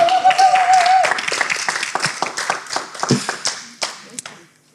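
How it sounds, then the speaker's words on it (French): An audience at a French poetry reading claps its hands, quickly at first and then thinning into scattered, uneven claps that fade out. A short tone sounds at the start, and there are faint bits of noise from the crowd. "Bravo, applaudissez-le."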